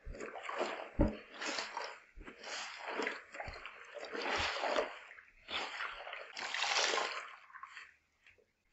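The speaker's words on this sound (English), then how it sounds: "And you just fold it in two and then squeeze it out." A wet white towel folded in two is squeezed and wrung by hand during hand washing, giving several bursts of dripping, splashing water and damp fabric rustle in uneven waves, close by, with no talking.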